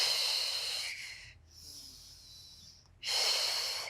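Slow breathing during a Pilates exercise: a long airy breath in, a quiet pause, then another breath, close and soft.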